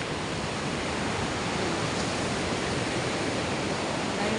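Ocean waves rolling in one after another during rough weather at sea, a steady loud wash of surf noise with no break and no voices.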